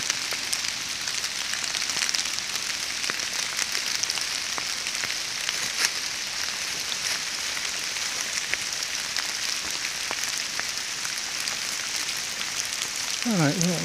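Steady rain falls outdoors, a continuous hiss of drops pattering on surfaces with occasional sharper taps, even and moderately close for the whole stretch, with no talk.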